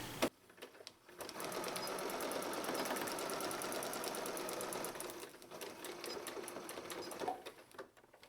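Sewing machine stitching a blue jeans purse, a fast rhythmic needle chatter running steadily for several seconds, pausing briefly and resuming, close and fairly quiet.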